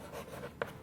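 Someone writes an answer on a board during a class three maths lesson on subtraction: soft, continuous scratchy strokes, ending with two short, sharper taps.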